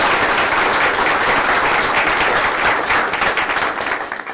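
An audience at a law school teaching awards ceremony claps loudly and steadily for over four seconds, a dense roomful of applause that tapers slightly at the end.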